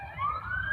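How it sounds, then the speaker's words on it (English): An ambulance siren wails faintly in the distance, a single rising tone over low background rumble, brief and steady in level. "paramedic and ambulance."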